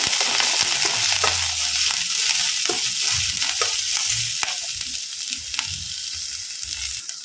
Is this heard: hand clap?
no